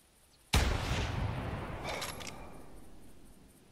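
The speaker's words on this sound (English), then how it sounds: "I'm using the 857 IS Anschutz rifle" A single loud Anschutz 857 rifle shot at a white-tailed deer in the hunting video game theHunter Classic, an abrupt crack followed by a long rolling echo that fades out slowly.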